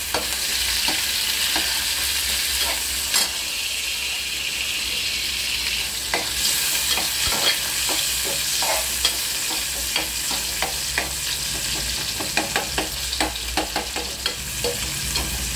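Curry leaves and onion frying in a pan for chana masala, a continuous bright sizzle with frequent spoon scrapes and taps stirring through it, close and loud, no talking.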